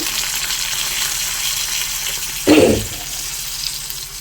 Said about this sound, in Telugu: వేగింది కదా మన ఆనియన్స్, పచ్చిమిర్చి, కరివేపాకు